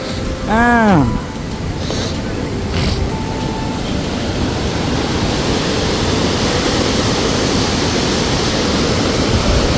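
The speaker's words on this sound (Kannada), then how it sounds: "ನೋಡಿ ಇಲ್ಲಿ ಅಂತೂ ಭಯಂಕರ ನೀರು ಸ್ಪೀಡಲ್ಲಿ ಉಂಟು ಇಲ್ಲಿ." Fast, heavy water rushes at a monsoon waterfall near a temple, forming a loud, continuous broadband roar close by, with a brief voice at the start.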